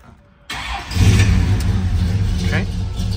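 A 1968 Pontiac GTO tribute car cranks and fires at about half a second, then its engine settles into a loud, rumbling idle close by, with a brief rev near the two-and-a-half-second mark.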